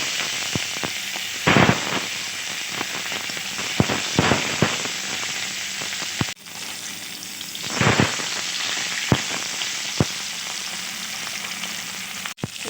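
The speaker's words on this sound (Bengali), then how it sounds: "মাছের লেজাটা ভেজে নেব" A hilsa fish tail fries in a little mustard oil in a wok, giving a loud, steady sizzle broken by sharp spitting pops and a few brief bursts of crackling.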